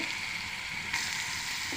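Steady sizzling of grated beetroot frying in hot oil, a continuous bright crackle with no voices.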